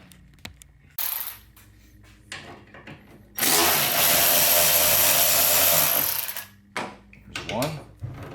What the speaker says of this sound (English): What you're gonna need is just a ratchet, a T30, as there's two T30s.